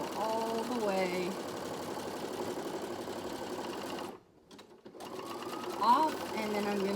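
A sewing machine runs close by, sewing a back stitch on youth gaiter fabric as a rapid mechanical whir, pausing briefly partway through before starting again, under a person speaking.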